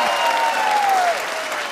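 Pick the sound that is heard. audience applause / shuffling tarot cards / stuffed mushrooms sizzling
audience applause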